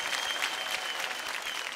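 Children in a school class clap for themselves, a dense, steady round of applause lasting under two seconds, fairly close.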